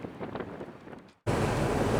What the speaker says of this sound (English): on a blustery, cold, late afternoon in Utica, New York